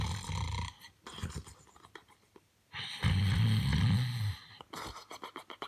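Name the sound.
snoring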